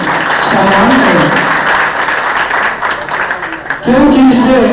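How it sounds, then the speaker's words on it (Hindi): A crowd of devotees at a Shri Ram religious gathering claps loudly and continuously in welcome, a dense wash of applause with a voice speaking over it near the end. "हम चाहेंगे यहाँ पर उपस्थित सभी भक्तगण जोरदार तालियों से उन महान भाव भक्तजनों का स्वागत करें, सम्मान करें"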